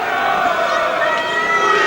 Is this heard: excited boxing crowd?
yes